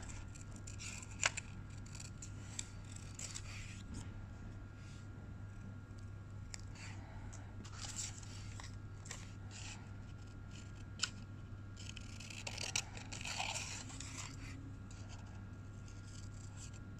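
Scissors cut paper, close and fairly quiet, with a series of crisp snips and rustles spread over about seventeen seconds against a low steady hum.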